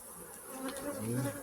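A dense, steady buzzing of many honeybees at a hive affected by chronic bee paralysis virus, close by, a continuous droning hum with no voices.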